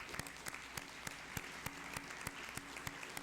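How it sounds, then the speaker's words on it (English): Audience at a National Honor Society induction ceremony applauds, a steady wash of clapping heard from a distance and fairly faint, with occasional sharper individual claps standing out. "So I would like to once again give all of you a round of applause."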